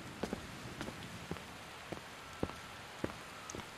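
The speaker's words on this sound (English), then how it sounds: "It's raining." Soft, steady rain in Skyrim Special Edition, with scattered louder drops tapping a surface, fairly quiet and continuous, no voices.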